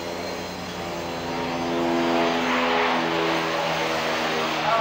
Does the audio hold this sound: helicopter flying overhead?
yes